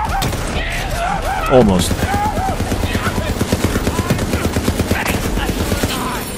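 Sustained gunfire trades back and forth in Borderlands 3, a steady stream of rapid shots from close range, with a voice talking over it.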